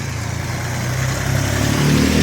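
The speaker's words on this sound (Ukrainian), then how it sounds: "от і тут тракторець прибирає." Small tractor clearing snow after a spring snowfall in a city street, its engine a steady mid-pitched idle hum that stays loud and close throughout, with no voices.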